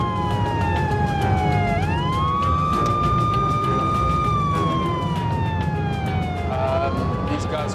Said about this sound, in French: Elle ne s'arrête pas malgré la sirène.